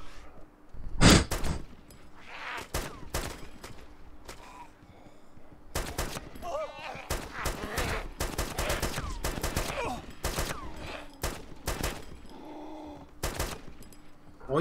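Bursts of AK rifle fire aimed at zombies in the video game DayZ crack out in sharp volleys with quieter gaps. Breathing and sighs are mixed in among the shots.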